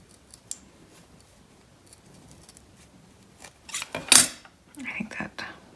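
Scissors snip through felt fabric during a mermaid doll craft, a few close, crisp cuts bunched near the end after a quiet stretch, with soft handling rustles between.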